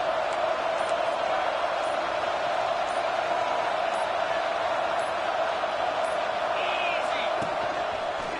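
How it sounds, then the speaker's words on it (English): A stadium crowd in the NCAA 25 college football video game roars steadily on a third down, a dense, continuous wall of cheering that holds at an even level throughout with no individual voices standing out. "Crowd getting this defense whipped up on third down."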